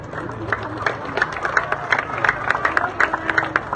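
A crowd at an outdoor Christmas lighting ceremony in San Antonio, Zambales, applauds the mayor with scattered, uneven claps that build across the moment, mixed with a general background murmur.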